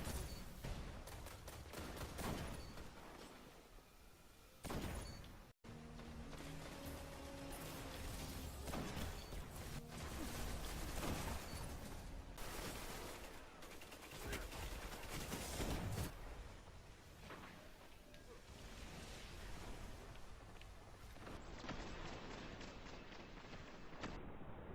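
Gunfire in the sniper video game No Land Beyond keeps up as dense, rapid volleys of loud shots with barely any break, one short gap near the middle.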